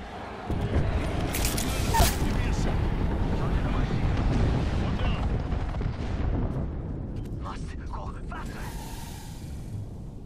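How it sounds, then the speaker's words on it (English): Airstrike explosions in the battle-royale game Apex Legends, a loud, sustained roaring rumble of blasts that swells early and slowly fades, with a voice mixed in underneath. "Signaling an airstrike."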